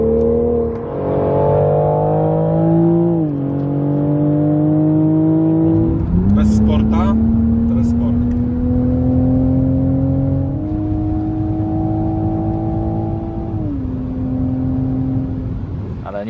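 A Toyota Supra sports car engine sound revs up and settles, pitch stepping up and down through gears, played loud through the car's speakers; brief clicks midway, no one speaking.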